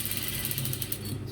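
A sewing machine stitches a side pocket onto a kaftan gown, giving a close, rapid and steady mechanical ticking with a faint ratcheting edge and no voices.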